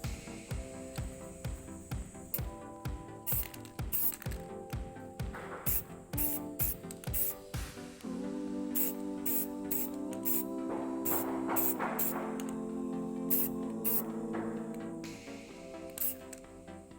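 An aerosol can sprays army green camouflage paint onto a homemade PVC gun, rapid short bursts at first, then longer steady hissing sprays close by, with no talking.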